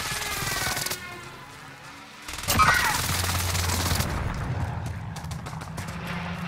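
Video game airstrike explosions hit as loud, heavy booms with crackling, gunfire-like bursts, followed by a rumbling, rattling aftermath.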